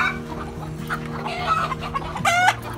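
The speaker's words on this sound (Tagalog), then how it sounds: "Ito ang mga manok ko dito sa Saudi." Several chickens in Saudi Arabia cluck close by in a steady, overlapping murmur, with a louder squawk near the end.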